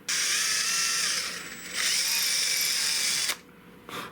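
A power drill bores out and enlarges a hole in a .410 garden gun being restored. It whines loud and steady under load, eases briefly, resumes, then stops, and a short burst follows.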